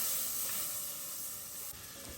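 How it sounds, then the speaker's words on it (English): Butter melts in a hot pan for a creamy Cajun sauce, giving off a steady, close sizzling hiss that holds evenly with a slight dip near the end; no voices. "for our creamy Cajun sauce, we're gonna go ahead and melt down some butter"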